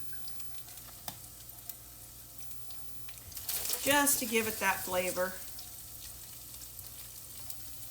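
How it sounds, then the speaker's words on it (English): Taco meat seasoned with McCormick Original Taco Seasoning and onion powder sizzles as it browns in a pan, a short burst of crackling and stirring rising over a quiet kitchen background while a person talks. "You can hear it sizzling, just to get it browned up a little bit."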